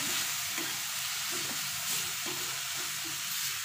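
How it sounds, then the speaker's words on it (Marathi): A stuffing mixture sautés in a pan, a steady close sizzle broken by rhythmic stirring scrapes roughly every half second, with no talking. "1 मिनिट पर असं परतून घ्यायचं सगळं व्यवस्थित"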